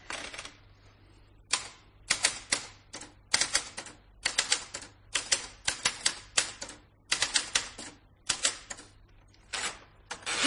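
A letter is typed on a portable typewriter: sharp, close keystrokes come in quick irregular bursts with brief pauses between words, loud and alone over a low steady hum.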